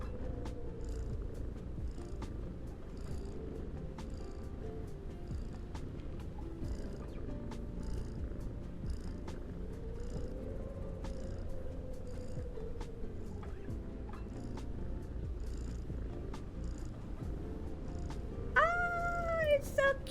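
A cat meow sound effect is played from a stream button. A steady low, purring hum runs throughout, and a short rising meow rings out near the end.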